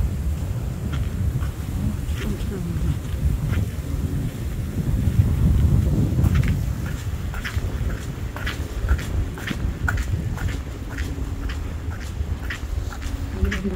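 Steady wind gusts buffet the microphone on an open outdoor walking path at dawn, a constant low roar with occasional surges and faint ticking in the background.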